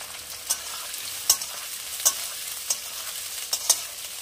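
Thick-cut carrots sizzle steadily in a pan for Rajasthani dhaba-style chana dal, with a handful of sharp scraping stirs at irregular intervals over the continuous frying hiss.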